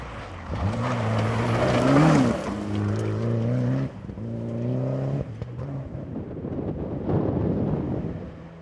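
A rally car accelerates out of an intersection on a gravel stage of the 2012 Oregon Trail Rally. The engine climbs in stepped revs, stalls briefly on a missed upshift, then pulls again with wind buffeting the microphone.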